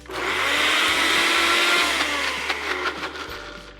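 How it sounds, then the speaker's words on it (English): A kitchen blender whirs loudly and steadily while blending pesto, a continuous high motor roar that holds for several seconds and then begins to waver and ease near the end. "So that was a good minute in the blender."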